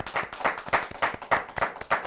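Students applaud veterans at a school Veterans Day ceremony, the clapping rising and falling in steady, regular surges that fill the room with no voices over it.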